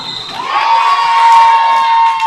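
A roller derby crowd cheers loudly at an all-star game between Windy City and Arizona, a swelling roar of shouts and whoops with a sustained high voice riding over it, close and full.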